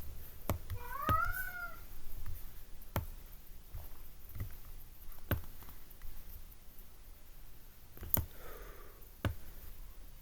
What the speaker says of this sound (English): If you hear my cats doing that, it's because they're kind of in a bit of pain right now